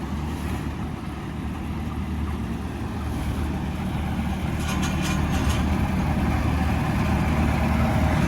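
A Finnish Sampo 690 (Massey 20) combine harvester in good condition driving and turning, its engine a steady, loud, close rumble that builds slightly over the stretch, with no talking.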